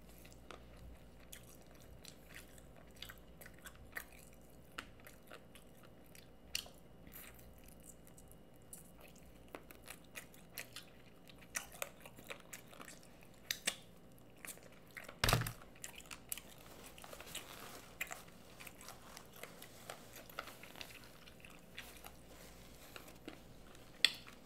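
Close, quiet chewing and biting as a steak burger and garlic parmesan chicken wings are eaten, with soft wet squishes and scattered crunchy bites spread irregularly over a long stretch.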